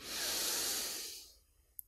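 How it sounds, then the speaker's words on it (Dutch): A single deep breath drawn in through the nose, a long close airy inhale that rises, holds steady, then fades out, followed by a brief faint click. "Dus diep inademen door je neus."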